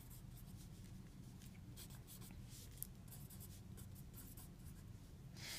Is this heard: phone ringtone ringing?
no